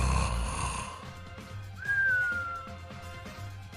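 Snoring from a sleeper, with rough rhythmic breathing noise and a thin whistling tone rising then gliding down in the middle, close and moderately loud, with no one talking.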